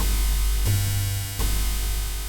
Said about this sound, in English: This is white noise synced to oscillator 1. Then you get this typical sound.